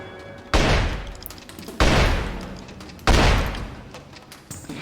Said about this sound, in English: I think I wasted one shotgun blast because I was too far